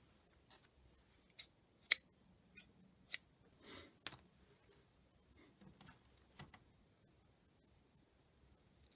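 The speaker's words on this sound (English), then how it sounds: "So all I did was I cut a piece off the end" Scissors snip a piece off a mesh bath scrubby, giving a scattered series of small, faint, close cuts and rustles in a quiet room.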